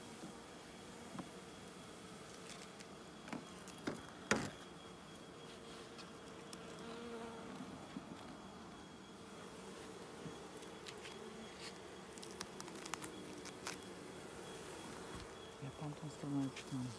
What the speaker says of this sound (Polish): Dużo pszczół